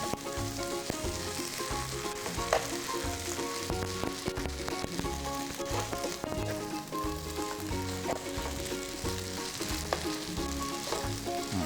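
Glass noodles stir-frying with soy sauce in a pan give off a dense, loud, continuous sizzle and crackle, with occasional scraping knocks from stirring throughout.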